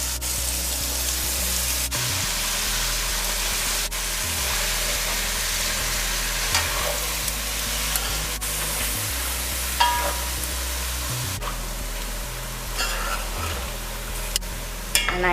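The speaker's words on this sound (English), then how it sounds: "Now I'll add the liver and the lite, and the runner and tripe." Liver, lung, runner and tripe, already boiled, fry in a pot for a lamb dish, giving a loud, steady sizzle and crackle with a continuous low hum and occasional stirring scrapes throughout.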